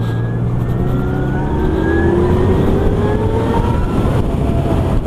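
A Zero DSR electric motorcycle with 144 Nm of torque accelerates hard in sport mode, its motor giving a loud, close whine that climbs steadily in pitch over road and wind noise.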